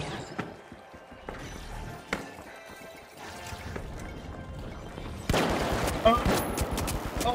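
Shotgun blasts from a Model 1887 lever-action in the online shooter The Finals, a few sharp reports over busy in-game noise and movement, with a louder burst of firing near the end.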